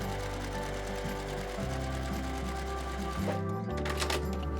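A sewing machine stitching a quilt seam on a log cabin quilt, running in a steady, continuous mechanical whir close by, with brief changes in pace and a short pause near the end.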